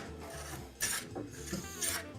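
Hand rasp shaping a wooden handle for a hand plane, taking light shavings in two firm rubbing strokes over a low background hum.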